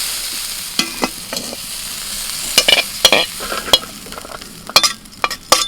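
Cauliflower frying and being stirred in a pan alongside beans, with turmeric powder and salt: a soft steady sizzle underneath, broken by a series of sharp scraping clicks of the spatula on the pan.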